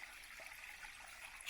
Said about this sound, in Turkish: Şurada küçük bir şelale oluşmuş.